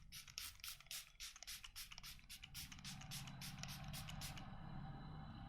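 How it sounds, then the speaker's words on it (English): A spray bottle mists facial toner in a rapid run of about fifteen short, hissing pumps, faint and close, over a low background hum with no talking. "Now I'm just going to spray this toner all over my face."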